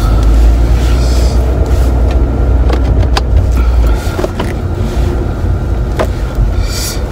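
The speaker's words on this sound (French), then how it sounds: "Oh, il y a un gros bus." A large bus passing close on the road, heard from inside a vehicle as a loud, steady low engine rumble with clicks and rattles, easing off midway through.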